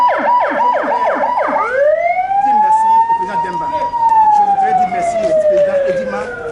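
Ambulance siren blaring close and loud: a rapid yelping warble at first, then a long rising and falling wail, with voices faintly underneath.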